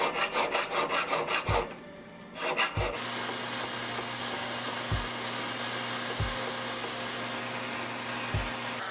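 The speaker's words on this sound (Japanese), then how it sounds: "外側の花びらの 背面は鏡面仕上げにするので紙やすりまでかけておきます。" Sandpaper is rubbed over the back of a silver flower petal for a brooch, first in short rhythmic strokes, then as a steady hissing scrape with faint low thumps, close up and moderately loud.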